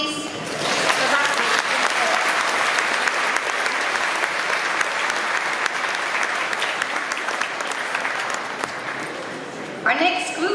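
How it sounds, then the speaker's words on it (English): An audience at a school certification ceremony claps steadily for nearly ten seconds, a full, even wash of hand claps that holds at a constant level before stopping abruptly, with a speaking voice returning right at the close. "And a round of applause,"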